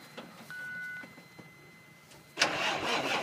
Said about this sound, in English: start the motor